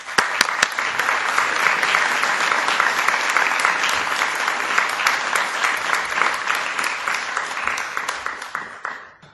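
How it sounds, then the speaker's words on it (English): Lecture audience applauding as a speaker is welcomed to the podium, dense sustained clapping from a full hall that holds steady for several seconds, then thins and fades toward the end. "I ask that we each show our appreciation to Peggy with a round of applause."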